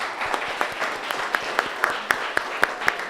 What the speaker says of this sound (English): Round of applause for all the panelists.